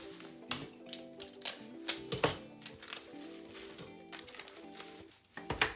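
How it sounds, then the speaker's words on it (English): Bubble wrap is rolled and wrapped around a Guitar Hero toy guitar, producing a run of close, sharp crinkles and snapping clicks with short pauses in between. "let's put some bubble wrap around it. Kind of roll it up."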